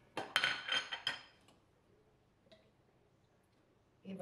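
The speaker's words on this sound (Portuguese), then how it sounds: "E vamos bater mais um bocadinho." Cake batter with yogurt, lemon zest and oil whisked in a bowl: a quick run of clinking metal-on-bowl strokes for about a second, then near silence with a faint tap and a brief final clatter.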